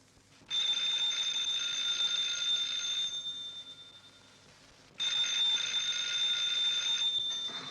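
A 1940s telephone rings loudly and close in two long electric bursts, the first lasting about two and a half seconds, then a short pause before the second begins.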